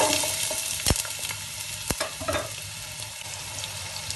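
Onions and green chillies with mustard seeds and fennel sauté in hot oil for vegetable rava upma, a dense, constant sizzling hiss up close, punctuated by a few sharp spatula knocks against the pan.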